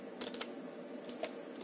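Brief, soft typing on a computer keyboard in a Windows PC setting: a few light key clicks in a short burst, close but quiet, with no voices.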